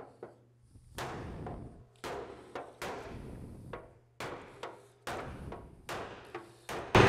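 Hammer blows land on the steel body panel of an Austin-Healey 3000 being reshaped, about nine sharp, ringing metallic strikes at an uneven, deliberate pace, close by with no talking.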